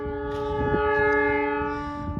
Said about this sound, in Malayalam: ട്രെയിൻ വരുന്നത് കാണാൻ പറ്റുന്നുണ്ടോ